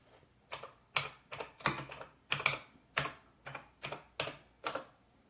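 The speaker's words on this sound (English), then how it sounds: "So here we can hit Control-A to recall the command, backspace to move back, space to move forward, Q to quit." Keys clack on a Heathkit H89 computer keyboard: about ten distinct, close keystrokes in an irregular rhythm, with a quiet room and no talk.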